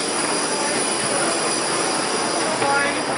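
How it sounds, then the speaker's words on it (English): A Boeing 787 Dreamliner's jet engine gives a loud, steady whine and roar that stays constant throughout. "Tämä on Dreamliner 787"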